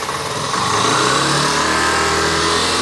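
A 1983 Yamaha Riva 180 scooter with a hard-start fault catches and runs, a close, loud buzzy engine note that rises slightly in pitch over a couple of seconds, with no talking.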